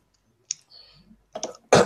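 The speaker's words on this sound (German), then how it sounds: "Ich klicke jetzt gerade hier mal wild rum" Computer mouse clicks come as a few sharp, close taps among quiet stretches, ending with a louder noisy burst.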